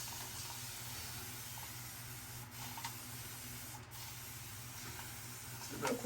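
Steady continuous hiss of a hair product misted from a spray bottle during an at-home haircut, sustained close by with a brief pause and no voices.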